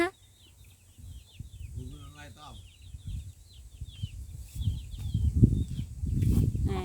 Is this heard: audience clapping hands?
no